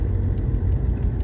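Steady low engine rumble from a car being driven, a constant near drone with road noise and no talking.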